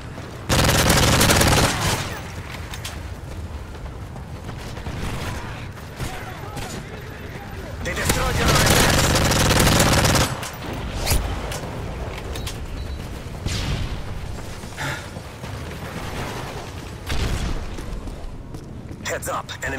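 A PP90 M1 submachine gun in Call of Duty MW3 fires in rapid bursts, loud and repeated among other gunfire and explosions, while someone talks over the action.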